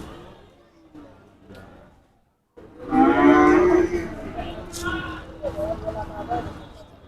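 A cow lets out a long, loud moo close by at a cattle market in Monirampur, Jessore, with a busy crowd of voices and livestock noise all around.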